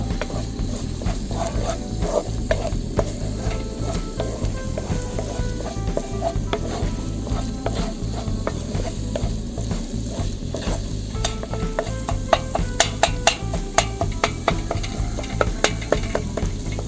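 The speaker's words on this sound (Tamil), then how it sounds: "அதையும் நல்லா நம்ம முட்டை பொரியல் பண்ணுற மாதிரியே நல்லா கிண்டி அப்படியே பொரித்து எடுத்துட வேண்டியதுதான்." Scrambled egg fries in a pan while being stirred, with a continuous loud sizzle and frequent scraping strokes and clicks from the spatula throughout, and no voices.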